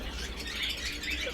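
White ringneck parakeets at a busy outdoor bird market chirp and squawk over a steady crowd hum, with high calls rising briefly through the background noise.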